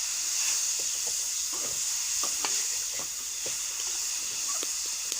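Sugar cooks and melts in a pan for carrot and coconut gajar barfi, giving a soft, continuous sizzling hiss broken by light scattered clicks and scrapes from stirring.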